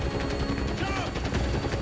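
A helicopter in Call of Duty: Ghosts keeps up a continuous rotor drone mixed with gunfire and game noise, loud and steady throughout the short stretch.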